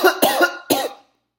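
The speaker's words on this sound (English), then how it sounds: "I got a coughing problem" A person with acid reflux coughing indoors at home, two sharp close coughs in quick succession, loud and dry, then silence.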